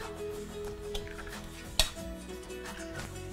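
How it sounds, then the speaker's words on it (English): A spoon stirs an egg quickly into chocolate chip cookie mixture in a skillet, with soft scraping and light clinks against the pan. A single sharp clink stands out over a steady low background, with no talk. "you're going to stir it real quickly because you don't want the egg to turn into scrambled eggs"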